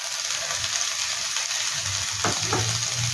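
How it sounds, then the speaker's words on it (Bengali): Onions frying in a little oil in a nonstick pan, a steady close sizzle with a couple of brief stirring scrapes near the end. "এবার আমি ননস্টিকে একটু তেল দেবো, অল্প অল্প তেল আছে আর অল্প তেল দেব। এবার এটার মধ্যে এই যে দুটো পেঁয়াজ ছিল পেঁয়াজগুলোকে দিয়ে দেবো।"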